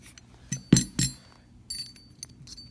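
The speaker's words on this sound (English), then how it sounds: "now we slide the firing pin back in." AR-15 firing pin slid back into the bolt during a field strip, a few small, close metallic clicks and clinks over about two seconds, then fainter light taps.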